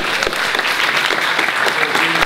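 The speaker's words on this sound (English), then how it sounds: "everybody here should give a round of applause to teachers who are here today and teachers who are not" An audience gives a round of applause for teachers at a political party conference, a loud dense burst of clapping that fills the hall continuously.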